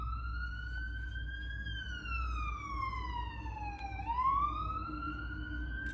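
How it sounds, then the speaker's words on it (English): An ambulance siren passes outside, its wailing tone sliding slowly up and down at moderate distance over a steady low rumble of background noise, with no talking. "It's an ambulance."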